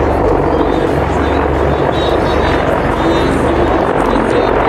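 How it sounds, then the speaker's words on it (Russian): Four helicopters and a fighter jet fly together at 270 km/h during an aerobatic air show, producing a steady, loud, dense rotor-and-engine roar that stays even and unbroken throughout. "4 вертолета и истребитель летят на одной скорости 270 км в час."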